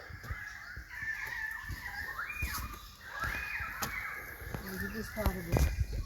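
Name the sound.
currawongs calling in the forest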